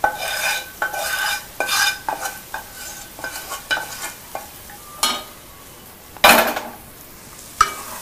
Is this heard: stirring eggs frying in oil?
yes